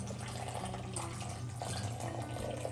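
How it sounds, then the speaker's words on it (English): Water is poured steadily into a bowl of sourdough ingredients set on a kitchen scale, a continuous splashing stream heard close up from start to finish with no talking. "add 257 grams of water"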